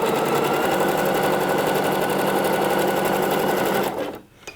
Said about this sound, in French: Et du coup je surjette ici uniquement le rentré de couture.